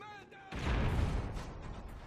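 One blast from a Vepr shotgun fitted with a muzzle brake in the video game Call of Duty: Ghosts, a single sudden booming report with a rumbling tail, after a brief faint tone.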